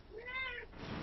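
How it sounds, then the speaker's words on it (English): A cat gives a single short meow nearby, faint and brief, heard over quiet background noise. "Sorry for the cat sounds."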